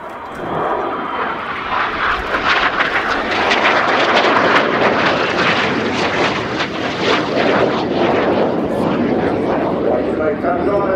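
Royal Air Force Red Arrows jets flying a display at RIAT air show, a loud, continuous roaring engine wash that swells and holds throughout, with a commentator's voice running over the top.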